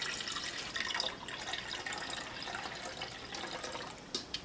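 Coconut water pours steadily into a blender with a splashy, trickling sound, ending in a few small drips.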